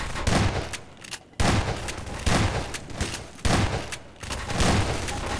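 Shotgun fire in Garry's Mod Prop Hunt, a few heavy close blasts spaced about a second apart with brief gaps between them, loud and alone without talk.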